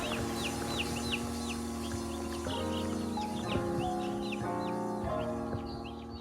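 Young broiler chicks in a winter brooder chirp constantly in high, rapid peeps over a steady low hum of equipment, many small voices overlapping close by.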